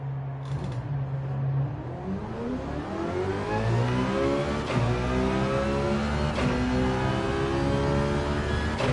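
Simulated car engine revving loudly through rising and falling gears during a lap in Gran Turismo 7, played in PSVR2 with a Fanatec DD+ wheel, with steady continuous drone and harmonic sweeps, no talk.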